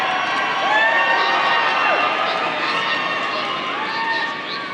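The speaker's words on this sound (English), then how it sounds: "You guys are screaming." A packed comic convention crowd at FanX Salt Lake screams and cheers continuously, a dense, loud wall of many excited voices, with some children's shouts rising through the din.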